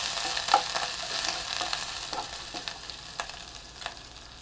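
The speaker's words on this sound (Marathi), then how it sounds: "हे आपण जे आलं लसूण मिरची ठेचून घेतलं होतं ते घातलं" Crushed ginger, garlic and green chili drop into hot oil already crackling with mustard seeds, cumin and asafoetida for Maharashtrian kadhi, giving a steady close sizzle and frying hiss with a few sharp pops and stirring clinks, no talking.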